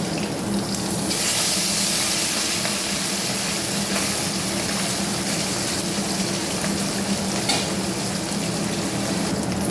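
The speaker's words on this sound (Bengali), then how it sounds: "মাছটা ভেজে দেবো।" Fish frying in oil for a thin Bengali curry with pumpkin stems and potato, a loud continuous hissing sizzle held steady throughout, close up and with no talking.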